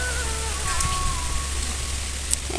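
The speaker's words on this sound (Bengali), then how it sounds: "টিপ টিপ বৃষ্টি ঝিরিঝিরি বৃষ্টি পড়তেছে এই দেখেন" Light drizzle falls steadily during a storm, a soft continuous hiss of rain with a low rumbling wind undertone throughout, no voices.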